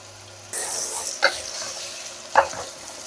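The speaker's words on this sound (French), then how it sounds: "je vais commencer par faire revenir les oignons avec l'ail" Sudden onset of steady oily sizzling as onions and garlic fry in oil in a pan close by, with two brief clinks of utensils stirring.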